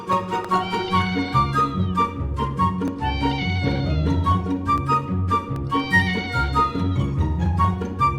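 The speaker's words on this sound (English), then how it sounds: "Cat." A cat meows repeatedly at close range, a string of loud, drawn-out, wavering cries that overlap and continue for several seconds with no talking.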